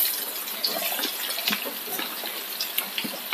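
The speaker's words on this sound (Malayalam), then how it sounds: "ചൂടായ എണ്ണയിലേക്ക് സവാള ഇട്ട് കൊടുക്കാം." Onion dropped into hot coconut oil in a pan for red chicken curry sets off a continuous close sizzle with small crackling pops throughout, and no talking.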